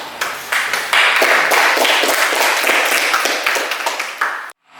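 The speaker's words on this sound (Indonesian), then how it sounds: "Ya, tepuk tangan untuk Bapak." A class claps for their teacher: close, lively hand claps from a group of children in a classroom, steady for about four seconds before stopping abruptly.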